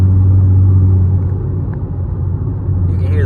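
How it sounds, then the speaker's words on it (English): A Nissan Z with upgraded turbos and a loud exhaust gives off a deep, heavy rumble up close. It dips briefly and then swells again, with a faint whistle near the end. "You can hear those turbos."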